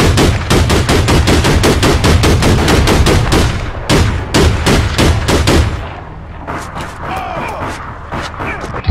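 Rapid bursts of gunfire in the APB video game, loud dense automatic shots for several seconds, then sparser, quieter shots trailing off; a player's voice is heard over the shooting.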